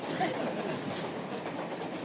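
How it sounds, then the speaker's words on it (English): A train rumbles steadily along the rails in a broadband wash of noise, with a faint rhythmic clatter and no clear voices. "I'll bet you're the only kid in the country that drives a train home from school"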